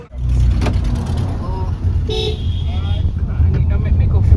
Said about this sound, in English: I'm in the car right now